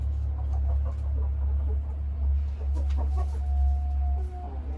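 Hens cluck softly and intermittently inside a coop over a steady low electrical hum, with a few brief louder calls partway through.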